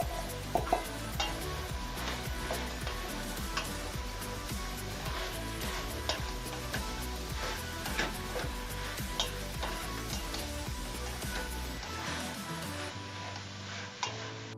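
Carrots and celery are stirred in a pot for chicken noodle soup, giving a steady sizzle with frequent scraping and knocking of a utensil against the pot. The sound is close and runs without speech.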